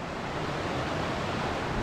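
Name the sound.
small stream flowing on a hiking trail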